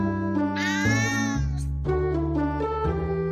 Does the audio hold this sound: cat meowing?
yes